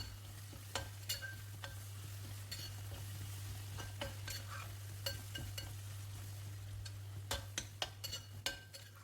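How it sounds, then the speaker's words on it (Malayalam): A spoon scrapes and stirs lemon pickle with curry leaves and ten green chillies in a pan, giving repeated clinks and scrapes over a soft steady sizzle and a constant low hum, with no talking. "വീണ്ടും നന്നായിട്ട് ഇളക്കി കൊടുക്കാം"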